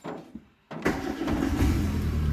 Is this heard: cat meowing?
no